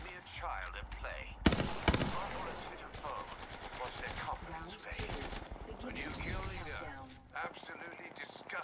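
Gunfire in Apex Legends comes in a sharp, loud automatic burst near the start, then fainter shots run under near-constant talking from several voices.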